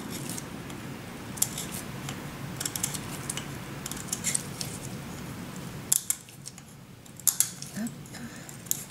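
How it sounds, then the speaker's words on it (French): Scissors snip through a thin layer of resin film for a pendant, a series of close, crisp cuts over a soft rustling background with a slight pause midway. "vous pouvez le découper au ciseau sans aucun problème"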